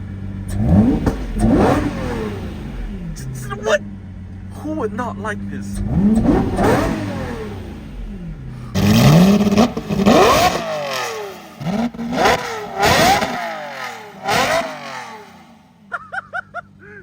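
A Lamborghini Murcielago V12 is revved hard several times: loud, close bursts of rising and falling engine roar separated by short pauses, with a voice briefly speaking between the revs.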